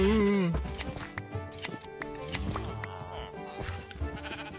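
Minecraft sheep bleat in short wavering calls, one at the start and a few fainter ones scattered over clicking game sounds.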